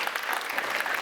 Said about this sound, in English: please join me and give a big round of applause to our Democracy Tech expert judge panelists